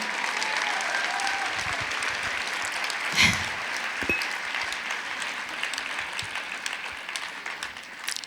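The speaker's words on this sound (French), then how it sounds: "je voudrais que vous l'applaudissiez" Sustained audience applause at a speaking event in Paris, a steady wash of many hands heard from some distance at moderate volume, with one brief louder burst partway through and a slight thinning at the end.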